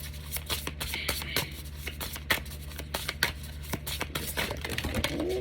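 Tarot cards are handled and drawn from a deck in a steady run of soft papery shuffles and slides, close up and fairly quiet over a low steady hum, with no talking.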